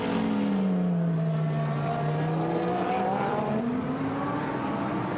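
A GT1 race car circuits the Donington track in qualifying, its engine holding a loud, steady drone whose pitch dips and rises as it weaves to warm its tyres, with no talk over it.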